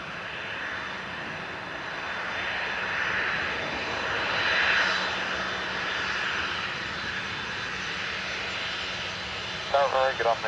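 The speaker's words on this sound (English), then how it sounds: "Going to go for the landing aircraft." Aircraft landing at Dublin Airport: a steady, moderately loud engine roar and broad whoosh swells gently and holds for several seconds, with a brief burst of talk near the end.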